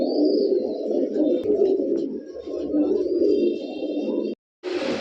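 Kaldom pigeons cooing close by at a bird market, repeated soft throaty coos in steady succession, briefly cut off near the end before resuming.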